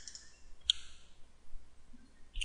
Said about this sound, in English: And if you double click here